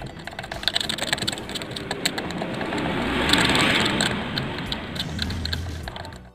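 A cutter scrapes along a trace on a TV circuit board, producing close, rapid, irregular scratching clicks that swell into a denser rasp midway before easing off, with no voices.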